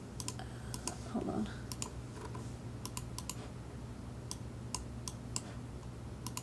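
Keys on a small four-key keypad attached to a Stemma QT breakout board are pressed on a workbench, giving sharp, scattered clicks over a low electrical hum, with a brief spoken phrase partway through.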